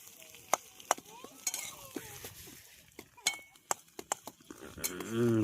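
Green chillies frying in oil in a village kitchen for egg bhurji: soft sizzling beneath sharp clinks and scrapes of a utensil against the pan, with people talking throughout.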